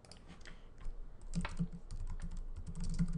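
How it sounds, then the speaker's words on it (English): Quiet, rapid typing on a computer keyboard, with irregular clusters of light key clicks close by and no voices. "We're going to type in the title."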